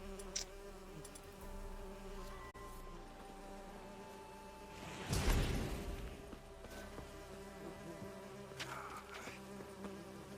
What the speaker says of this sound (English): No, can't calm the bees.